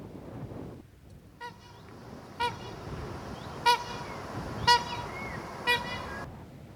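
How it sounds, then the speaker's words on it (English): Trumpeter swans on an Arctic Ocean spit give a series of about five loud, nasal, horn-like honks spaced roughly a second apart, rising above a low rumble of wind or water. "The enormous trumpeter swan is the largest extant species of waterfowl."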